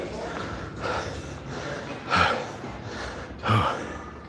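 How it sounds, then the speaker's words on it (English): Heavy, rhythmic breathing close to the microphone during a chest workout, with steady in-and-out breaths and two louder, forceful exhalations partway through. "Sorry if I'm breathing in your ear too."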